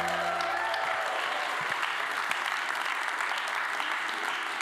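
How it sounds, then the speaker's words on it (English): A church congregation gives a sustained round of applause for the readers at a Christmas Eve service, with dense, steady clapping filling the room and no speech. "Can we give all our readers one more big round of applause?"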